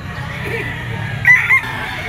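A Kelso bloodline bull stag rooster at a pet market gives short clucking calls, two brief bursts standing out near the end over a low crowd murmur.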